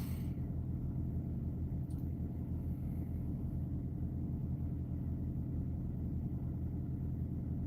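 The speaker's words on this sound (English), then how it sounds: "My reefer's running because it's full of butter." A truck trailer's refrigeration unit running while loaded with butter, a steady low droning rumble that holds even throughout, with no voices.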